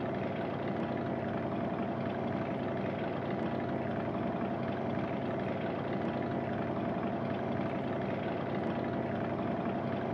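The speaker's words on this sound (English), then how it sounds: "let's shut down the engine for a minute here" The engine of an Icon A5 seaplane idling in Flight Simulator X, a steady continuous drone with a propeller hum, even and unchanging, with no talk.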